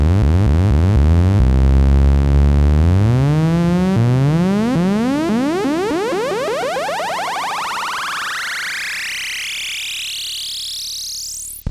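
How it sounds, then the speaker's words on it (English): An ARP 2600 semi-modular synthesizer sweeps a space sound: a rising, rippling electronic tone with dense harmonics that glides steadily upward over about twelve seconds, loud and continuous, ending in a high squeal. "There's your space sound number 1"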